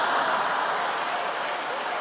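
An audience at a Korean church sermon claps in a dense, even wash of applause that holds steady and fairly loud for about two seconds.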